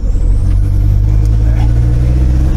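A VW T3 van's TDI diesel engine drones loudly and steadily from close by as it is driven, a deep even rumble with a faint rising whine, while a person talks over it.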